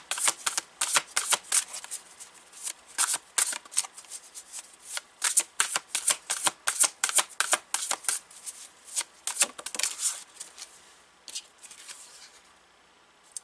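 A deck of tarot cards is shuffled by hand in a long run of quick, crisp riffling bursts, close and fairly loud, with no voices, slowing and thinning out toward the end.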